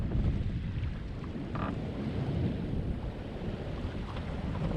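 Wind blows steadily aboard a sailboat at sea with softening swells, making a continuous, fairly faint rushing noise mixed with the wash of water around the hull.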